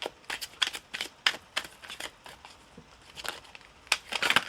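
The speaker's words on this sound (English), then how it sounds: "I cannot shuffle for the life of me" Tarot cards being shuffled by hand, a quick series of crisp riffling and slapping bursts in irregular rhythm, close and moderately loud with no voices.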